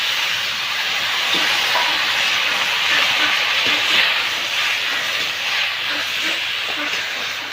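Water hits a hot pan of taro with a steady, loud hiss that holds evenly for several seconds, with faint clicks and bubbling under the rush of steam.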